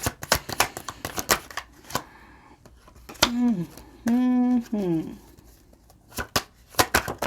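Playing cards are shuffled in crisp, rapid riffling bursts near the mic, with a pause in the middle broken by a few tonal, voice-like sounds.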